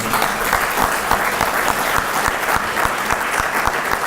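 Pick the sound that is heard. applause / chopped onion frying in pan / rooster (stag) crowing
applause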